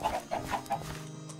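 Chickens on a Minecraft farm cluck in a quick series of short, close clucks over the first part, then fall quiet.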